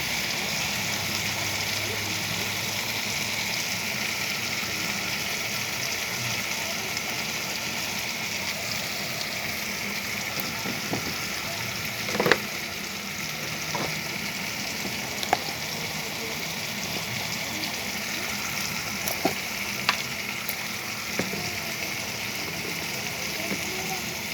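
Potato pieces frying in oil in a pan, a steady loud sizzle running throughout, with occasional clinks and taps from a utensil.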